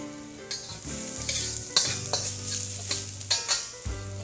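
Garlic browning in a teaspoon of oil for a beef and celery stir fry sizzles steadily up close, with a spatula repeatedly scraping and tapping the pan.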